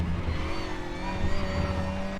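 Race car engine under braking in the RaceRoom sim on the Nurburgring GP circuit, a steady loud drone with engine harmonics and faint tire scrub as the car slides loose into a chicane.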